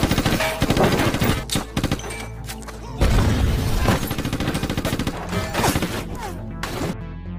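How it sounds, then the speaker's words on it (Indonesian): Film shootout between police and gangsters at a dock: loud, rapid bursts of gunfire and booming shots, dense and continuous with crashing impacts, up close throughout. "pasukan polisi sampai, dan berhasil mengepung Roman dan Pedro, hingga terjadilah baku tembak"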